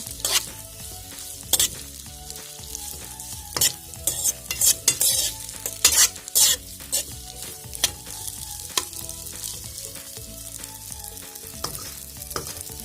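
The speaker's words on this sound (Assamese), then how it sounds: "এইখিনি এতিয়া মই আকৌ এবাৰ ভালদৰে এনেকৈ মিলাই ল'ম। আৰু এতিয়া মোৰ এইখিনি ভাজি হৈ গৈছে।" Noodle roll filling sizzles and fries in a pan while a spoon stirs it repeatedly, with frequent scraping knocks against the metal over a steady close frying hiss.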